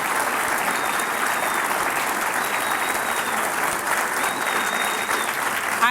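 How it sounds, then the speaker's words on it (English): A large audience at a 2004 Democratic presidential candidates forum claps in a steady, dense wash of applause that holds evenly throughout with no break. "Now you can applaud."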